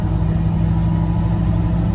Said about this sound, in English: Wow, it is dragging those tires.